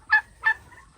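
A duck gives two short, nasal honking quacks about a third of a second apart, close and clear, followed by a faint trailing call over a quiet background.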